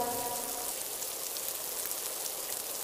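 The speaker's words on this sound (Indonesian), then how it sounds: "Tuh kan betul bakalan hujan." Rain in the mobile game Sakura School Simulator, a steady, even hiss of falling rain that fills the whole stretch with no voices over it.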